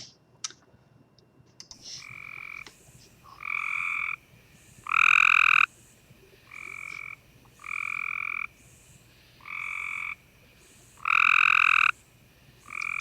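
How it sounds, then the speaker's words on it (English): A newly metamorphosed spring peeper calls repeatedly, loud piercing peeps in short bursts spaced every second or two, clear and close against a quiet background. "That is the peeper, the spring peeper."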